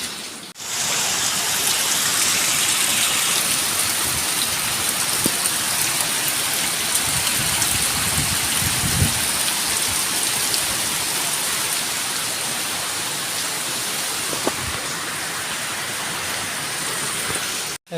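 A long spell of heavy rain hisses and drums without pause, loud and close. A few low knocks or splashes rise briefly midway, and no one speaks.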